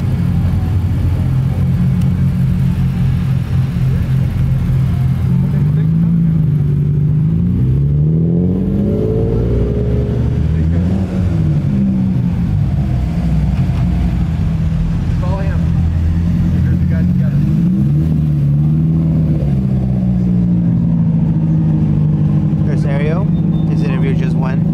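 Modified Toyota 86 JDM cars rumble and rev as they roll into a Cars and Coffee meet, engine tones rising and falling steadily, loud and close, with people talking over them.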